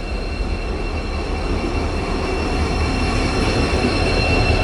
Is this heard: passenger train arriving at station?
yes